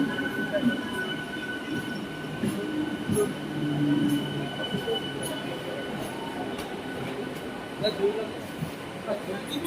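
A Howrah–Haldia local train rumbles through Tamluk station with a continuous rolling drone, wheel squeals and clattering rail noise at moderate distance, while people talk in the background.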